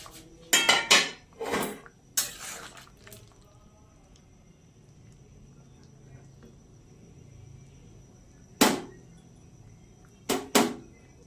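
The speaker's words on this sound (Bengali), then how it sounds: "এবার ঢাকাটা খুলবো" A metal pot lid lifted off after jackfruit has cooked, a few sharp clanks and clatters near the start and end, with quiet room noise in between.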